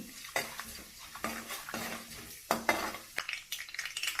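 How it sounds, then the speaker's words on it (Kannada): Urad and chana dal with cumin roasting in a pan, stirred with a metal spoon: quiet, repeated scraping and clinking strokes against the pan over a soft background sizzle, close up. "ಇದು ಎಲ್ಲ ಮಿಕ್ಸ್ ಮಾಡ್ಕೊಳ್ಳೋಣ ಈ ಥರ ಚೆನ್ನಾಗಿ."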